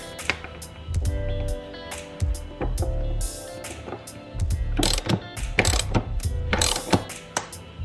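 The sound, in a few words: ratchet tightening factory bolts on Tacoma seat jacker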